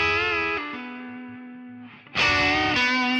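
Electric guitar lick with distortion and effects, first phrase played softly and sustained, then a sudden much louder attack near the end; no talking.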